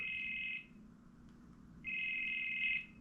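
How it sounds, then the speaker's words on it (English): A phone ringtone sounds twice, each a steady electronic tone lasting about a second, separated by a short pause over faint background hum. "It's just a plain ringtone"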